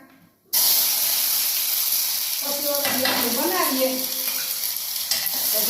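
Cooked rice tipped into a pan of hot tempering oil with onion, potato and tomato, in a home kitchen: a short quiet moment, then a loud, close, steady sizzle and hiss with stirring scrapes, no voices.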